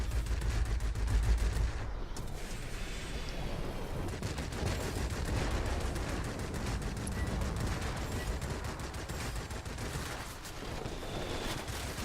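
Guns and rockets from Russian Ilyushin IL-8 and IL-10 attack aircraft pound a military base in World of Warplanes, a dense, unbroken roar of rapid gunfire and booming impacts throughout, with no voices.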